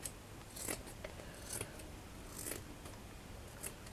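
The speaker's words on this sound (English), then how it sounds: "I'm just going to cut that section." Scissors cut through fabric in a few quiet, crisp snips spaced about a second apart, close by over a soft background hiss.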